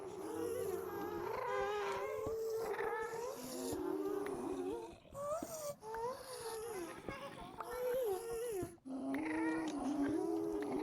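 Ghasts in the Minecraft video game, a string of shrill, wavering cries and moans, several in a row with short gaps, set against low background noise.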